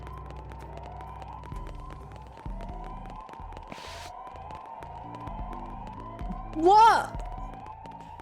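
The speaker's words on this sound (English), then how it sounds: "Are you guys hearing this siren?" A rising and falling electronic siren in Xenoblade Chronicles X: Definitive Edition wails briefly over game music and effects, loud for about a second, with a voice speaking in the background.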